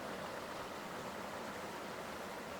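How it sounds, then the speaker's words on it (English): Steady broadband rush of the waterfall at Hidden Falls in Canberra, Australia, a continuous even roar with no breaks and no voices. "Focusing on the waterfall."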